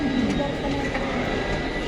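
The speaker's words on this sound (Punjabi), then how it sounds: "ਆਪਾਂ ਆ ਗਏ ਹੁਣ ਮੈਟਰੋ ਸਟੇਸ਼ਨ ਤੇ" At a metro station, an underground train gives a constant heavy rumble with faint squealing wheel tones layered on top, filling the space evenly at close range.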